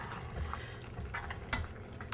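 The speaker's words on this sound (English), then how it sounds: "a look at the oil down. Give it a stir." A spoon stirring a pot of oil down stew with cassava, sweet potato and coconut milk, giving soft scraping and wet bubbling sounds with a light clink, quiet and close over a low simmer.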